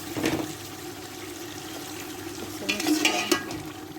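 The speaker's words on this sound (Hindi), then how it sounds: "अब मैं गोश्त को डालूँगी।" Meat added to a hot tempering of oil and whole spices in a cooking pot and stirred, giving a sizzle with scraping and clinking of the spoon against the pot, loudest near the start and again toward the end.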